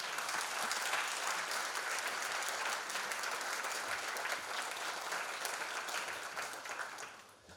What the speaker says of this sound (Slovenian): gospoda Damjana Lazarja, ki mu boste gotovo navdušeno zaploskali